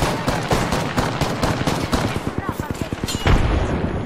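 Rapid automatic gunfire from the video game Apex Legends rattles in quick bursts, loud and dense, with players talking over it and a heavier blast near the end.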